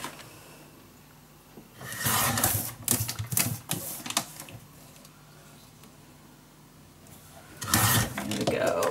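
Paper being trimmed along both edges for a handmade mini album, a run of close, crisp cutting strokes in two bursts separated by a quieter pause.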